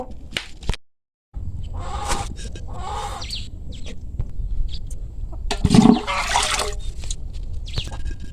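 Water is scooped and poured by hand at a small field hut for boiling freshly picked corn, heard as several brief splashy gushes with one fuller, louder pour near the end against quiet outdoor background.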